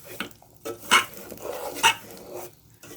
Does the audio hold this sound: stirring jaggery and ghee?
yes